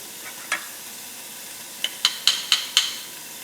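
Chicken tidbits and vegetables cooking in a pan, with a soft sizzle underneath and a series of sharp, quick clicks and pops from stirring that grow denser toward the end.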